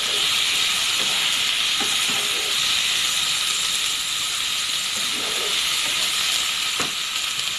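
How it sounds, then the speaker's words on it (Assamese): Pork and taro curry stirred in a pan: a loud, continuous hiss of sizzling fills the whole stretch, with scattered faint scrapes and taps of the utensil beneath it, close by and without talk. "আকৌ এবাৰ লৰাই লওঁ।"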